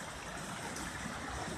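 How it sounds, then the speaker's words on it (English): Heavy rain pours steadily onto a tin roof, a dense, even wash of hiss and patter with no breaks, heard softly and without voices. "It's literally been pouring. Love it. I love the sound on the tin roof"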